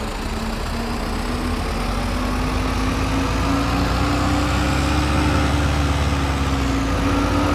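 A newly bought Fendt 311 tractor engine in the video game Farming Simulator 22 drones steadily at a constant idle-like pitch, loud and continuous with no talk.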